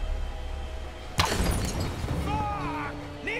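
A glass lantern shatters in the Tomb Raider game, a sudden sharp crash of breaking glass with scattered debris, set against a steady game ambience and a faint voice.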